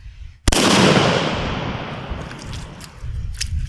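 A single loud Mossberg 500 or Maverick 88 shotgun blast, sharp and close, with a long rolling outdoor echo that fades over several seconds on an open range.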